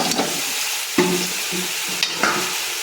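Potatoes and cauliflower frying in a pan, with a steady sizzle beneath several distinct scraping stirs of a spoon against the pan, close and moderately loud, with no voices.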